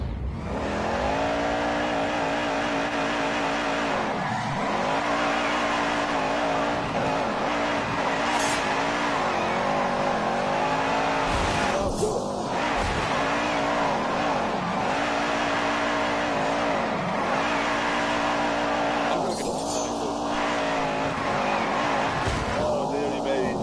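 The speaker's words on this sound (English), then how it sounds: "Wheel spin, that just makes a huge amount of noise." Car engines rev hard with wheel spin, a loud continuous roar and whine of tires spinning and squealing on tarmac, pitch rising and dipping through the clip, with voices talking over the noise.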